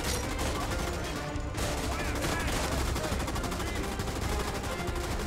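Machine gun fire in the World War II shooter game Raid WWII, rapid dense bursts running almost nonstop and loud, with a brief gap early on and a voice speaking over the gunfire.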